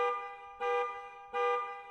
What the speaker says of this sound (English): The loud blaring of car alarm has Nazar drop the rest of the bags onto the floor and rush out the door.